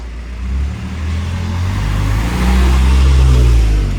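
A truck drives past along a narrow covered street in Shinagawa, Tokyo, its loud low engine rumble swelling and holding steady nearby, with no talking.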